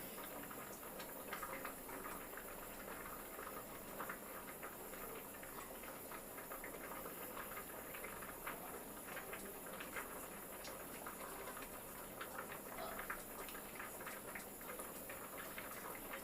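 A sewing machine runs top-stitching around the edge of a girl's long frill-model frock, giving a steady, fairly faint whirring rattle with fine rapid needle clicks that continues unbroken for the whole stretch, with no voices.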